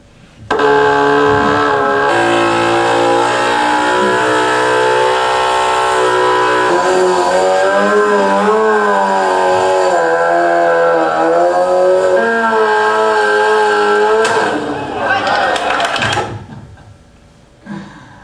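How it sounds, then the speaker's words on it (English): A motorcycle engine revs hard and holds high as its rear tire spins in a burnout, a loud sustained whining tone that wavers in pitch for about fifteen seconds before cutting off abruptly. "He was sitting on his motorcycle, spinning his tires until it popped."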